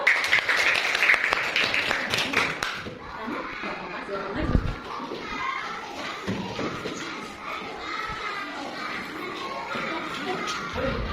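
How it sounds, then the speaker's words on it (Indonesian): A burst of children's clapping in a grade 4 primary school religious-studies class, applauding a student group after its presentation; loud and dense for about three seconds, then giving way to classroom chatter, shuffling and thuds. "Ayo kasih tepuk tangannya buat kelompok 1."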